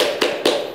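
Two sharp hand claps come half a second apart, close and loud, with no talking between them, in a children's Indonesian clapping game.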